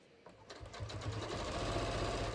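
A sewing machine topstitches jeans with heavy Coats & Clark topstitching thread, starting up after a brief pause and running at a steady, rapid stitching rhythm that gradually builds in loudness.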